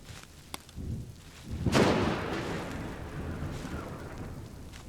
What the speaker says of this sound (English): Looks like the storm caught up to us.